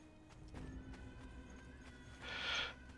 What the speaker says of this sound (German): So, Pferdel haben wir dabei.